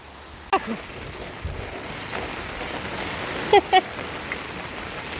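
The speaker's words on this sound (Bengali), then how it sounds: "বাইরে ভালোই বৃষ্টি হচ্ছে" Steady rain falls outdoors as a broad, even hiss throughout, with a couple of brief louder knocks or voice-like bursts partway through.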